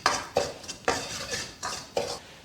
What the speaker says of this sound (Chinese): 先炒一个糖色